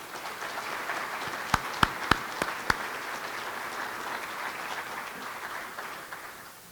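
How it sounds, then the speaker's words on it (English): An audience at an electric cooperative's annual meeting applauds its linemen with a steady, full wash of clapping that holds for several seconds, a few sharp individual claps standing out, before it fades. "Please join me in giving our linemen a round of applause."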